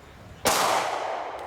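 A single sharp 9mm pistol shot fired with SIG SAUER 124 grain ammunition at close range on a shooting range, a loud crack followed by a short decaying ring.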